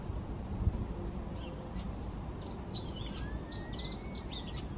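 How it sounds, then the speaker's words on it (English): Birds sing outdoors, faint and distant: a few soft chirps early, then a busier stretch of quick calls and a thin whistle over steady background noise. "Can you hear the birds?"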